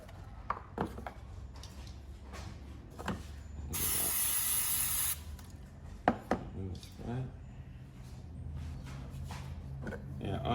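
A steady hiss of a spray bottle bursts for about a second as cleaner is sprayed inside a Toyota Hilux filter housing, amid clanking handling noises and brief sharp knocks.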